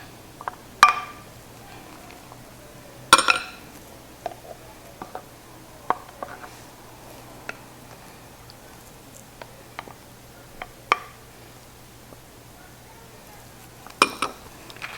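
Pecans drop into a glass jar, giving a few sharp glass clinks and scattered lighter taps with quiet gaps between them.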